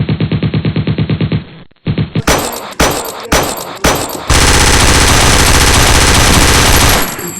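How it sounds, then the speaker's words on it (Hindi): Gunfire from a film shootout: a rapid rattling burst, a silence, then separate loud shots, and finally a sustained dense barrage of automatic fire that lasts to the end, close and loud with no talking. "तो तुम जाओ और उन पे ओपन फायर करो"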